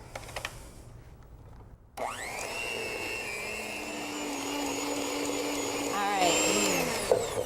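An electric mixer whirs up to a steady, high motor whine as it beats softened butter in a home kitchen, running continuously and close by, its pitch wavering slightly as it works, while a person talks before and over it.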